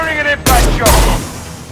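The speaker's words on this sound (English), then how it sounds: "Firing an impact shot!" An impact shot weapon fires in the sci-fi shooter Mass Effect 2, with two heavy, booming blasts in quick succession, loud and close, after a brief voice.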